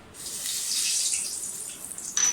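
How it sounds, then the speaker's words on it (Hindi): Curry leaves and whole spices hit a hot pan for a chicken dish, bursting into a bright, loud sizzle that holds steady for a couple of seconds and then flares again near the end. "पैन हमारा गर्म हो गया, कड़ी लीव्स डाल दें"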